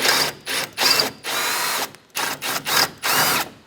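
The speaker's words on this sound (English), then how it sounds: "just go ahead and drill this out until it pops free" A power drill runs in repeated bursts, whining loudly as it drills out a metal rivet on the front left interior door handle of a Chevrolet Express 3500 van, stopping and restarting several times in close succession.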